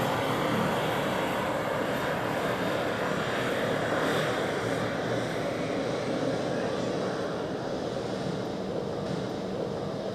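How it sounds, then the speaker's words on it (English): Helvetic Embraer 190 jet airliner at Zurich Airport, a steady broadband engine roar holding loud and constant throughout with no break. "Here we have one of the dozens of Helvetic Embraers. Embraer 190."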